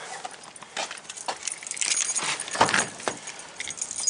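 Car keys jingle and clink close at hand in irregular metallic bursts beside a vehicle being prepared for a jump-start test, with a louder cluster of rattles partway through.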